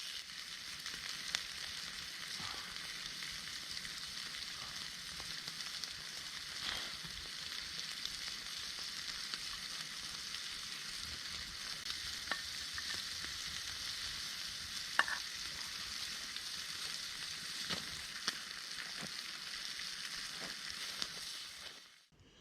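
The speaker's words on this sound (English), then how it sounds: "Just going to give them sausages a flip." Sausages fry on a campfire during a hot outdoor solo camping trip, giving a steady close sizzle and crackle with occasional pops and light clicks, continuous for over twenty seconds before cutting off, with no talking.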